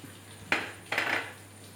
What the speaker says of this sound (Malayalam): നമുക്ക് ആദ്യം ഒരു പാന് സ്റ്റൗവിൽ വെച്ചിട്ട്